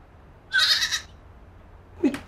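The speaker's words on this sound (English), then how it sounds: "That's not what the goat said." A goat bleats once, loud and close, a wavering half-second cry, followed by a short lower bleat or vocal burst about a second later over quiet background.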